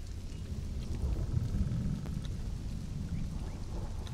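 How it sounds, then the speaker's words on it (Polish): Steady rain hiss with a low rumble of thunder rolling through in the Conan Exiles video game, continuous and moderately loud with no voices. "Pada."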